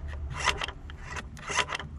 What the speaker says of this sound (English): We can hear the internals moving